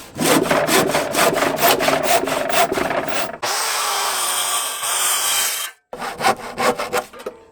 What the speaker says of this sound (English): I'm just going to finish out this cut with a handsaw